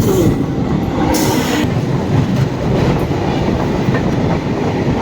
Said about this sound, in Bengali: ধৌলি এক্সপ্রেস যাচ্ছে আমাদের পাশ দিয়ে